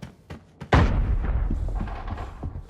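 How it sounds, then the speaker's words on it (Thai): A loud in-game explosion bursts in Arena Breakout, with a deep boom and a long rumbling tail after a few softer thumps and shots, heard close and with no talk over it. "เสียงระเบิดที่ได้ยินเนี่ยน่าจะเป็นระเบิดบอดนะครับทุกคน"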